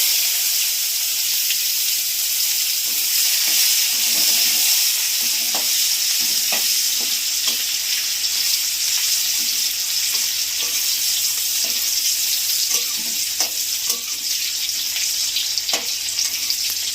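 Panch phoron and chopped onion fry in a pan with a loud, constant sizzle and hiss, and a spoon scrapes and taps at intervals throughout.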